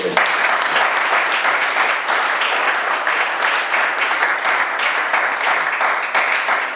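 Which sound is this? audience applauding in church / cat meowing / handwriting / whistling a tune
audience applauding in church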